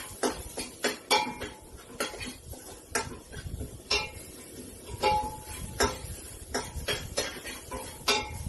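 Chopped chili being stirred in a pan, with a utensil repeatedly clinking and scraping against the metal in an irregular rhythm, fairly close and without talk.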